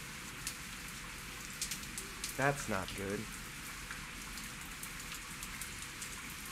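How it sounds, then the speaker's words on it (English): Steady hiss of rain falling in the zombie survival game Zafehouse Diaries, a continuous wash of drops beneath a brief spoken remark. "It's starting to rain."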